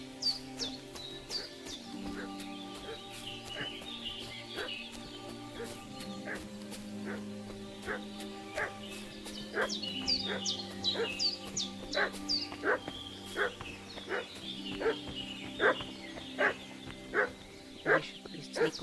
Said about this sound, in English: What's that dog making such a fuss about?